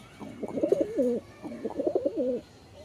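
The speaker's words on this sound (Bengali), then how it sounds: "আমার হাতে যে কবুতরটা দেখতেছেন এটা হচ্ছে চীনা টেডি নর" Chinese Teddy pigeons coo close by in two rolling, throaty phrases separated by a short pause, with no talking.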